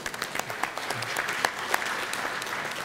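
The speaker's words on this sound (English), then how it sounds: "A word of applause for Andrea Bassi." Summit audience at a Forests Asia green growth panel gives a short burst of applause, dense clapping with a few sharper individual claps standing out, moderately loud and steady.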